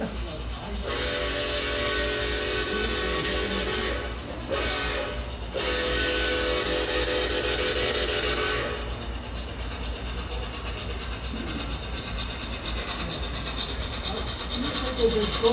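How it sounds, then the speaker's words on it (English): An O scale two-rail model train runs steadily on a club layout with a continuous mechanical rumble and hum, a brief dip midway, while faint voices murmur in the background. "Pretty cool train."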